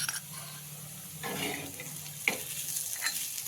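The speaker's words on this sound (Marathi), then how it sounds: "छान हलवू घेतलं" A spoon stirs a paste of green chili, peanuts, salt and cumin in a pan, making soft scraping and wet sizzling swishes. Quiet and close, with faint clinks and no talk.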